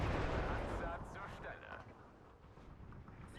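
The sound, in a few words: gunfire from a 251/9 halftrack in the Steel Division 2 video game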